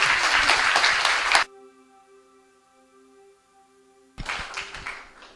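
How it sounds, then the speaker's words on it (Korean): Audience applause after a student's testimony at a Christian youth camp: a dense burst of clapping that cuts off into a quiet stretch with a steady electrical hum, then a second burst of clapping returns. "다시 한번 박수 부탁드릴게요."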